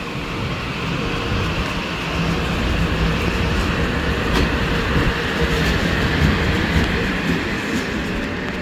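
A Metro-North or Amtrak train departs New Rochelle station with a continuous loud rumble and faint rhythmic clatter of wheels on track, close by and steady.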